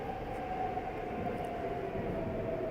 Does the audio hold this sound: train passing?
yes